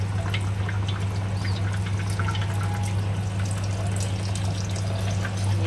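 Water is poured steadily from a jug into a cooking pot while making mutton Moradabad biryani, a continuous close splashing flow over a low steady hum, with no talking.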